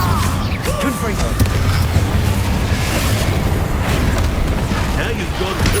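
Confringo spell explosions in Hogwarts Legacy, repeated booming blasts and crashes in a chaotic fight, with voices and shouting throughout.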